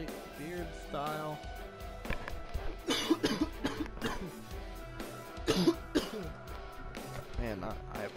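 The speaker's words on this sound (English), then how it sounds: "This really terrible cough." Several harsh coughs and throat-clearing bursts come from a person close to the mic, loud and irregular, mixed with speech and video game sounds.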